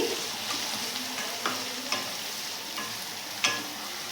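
Scrambled egg and fried minced meat mixed together in a pan for mixed fried rice: a soft steady sizzle broken by a few spatula scrapes and taps on the pan, near and unaccompanied by speech.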